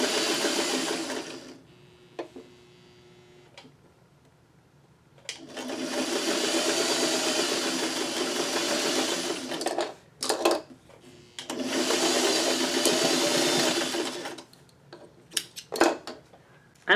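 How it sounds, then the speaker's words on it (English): A sewing machine stitches a narrow fabric strip at a 1/8-inch seam for crumb quilting, running in three bursts: a short one, then two long steady runs. Short clicks and handling noises fall between runs, and no one speaks. "And I'm going to sew"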